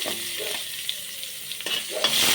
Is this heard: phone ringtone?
no